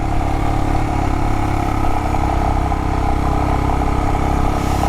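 A motorcycle engine labours hard at high speed on a road through Colorado canyon country, a loud, dense and unbroken drone with heavy wind rush that runs steadily the whole time with no talking.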